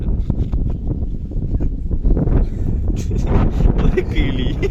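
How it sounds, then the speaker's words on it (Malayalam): Strong wind buffets the microphone outdoors in Attapadi, a steady low roaring rumble that lasts the whole stretch and swells louder toward the end, with a voice talking over it. "കാറ്റാണ് കേട്ടോ, നല്ല കാറ്റുണ്ട്."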